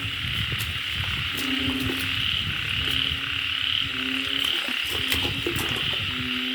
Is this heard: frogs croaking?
yes